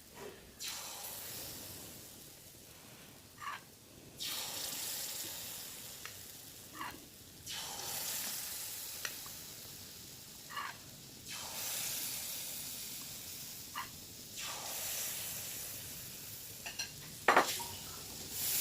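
Chitoi pitha batter cooks in a mould pan during the Poush Sankranti festival, giving a faint, continuous sizzling hiss broken by occasional soft clicks and scrapes, with no voices.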